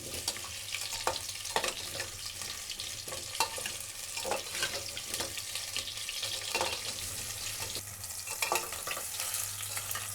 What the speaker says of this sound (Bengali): ভালো করে এবার ভেজে নিচ্ছি।